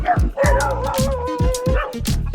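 Several dogs barking in repeated yapping bursts close to a cyclist on a road route, overlapping barks with some higher yips and whimpers.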